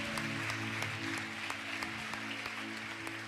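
Applause from a Baptist church congregation in Carmópolis, a fairly faint and steady patter of clapping over a low, sustained hum of instrumental tones, with a few sharper claps standing out.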